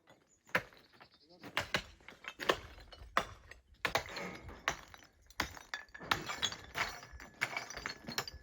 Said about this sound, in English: I smashed up the rubble that had been under the truck.